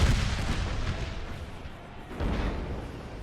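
Artillery fire in a Napoleon Total War American Civil War mod battle at Gettysburg, heard as a steady barrage of low, rumbling booms at moderate distance, with a heavier swell of blasts near the end.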